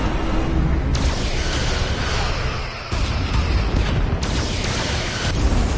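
Starship weapons fire and explosions in a Star Trek Resurgence space battle: loud, continuous rumbling blasts with sharp booming impacts at intervals and a brief dip before the barrage resumes.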